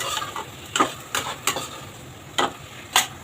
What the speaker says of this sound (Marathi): ते परतून घेऊ.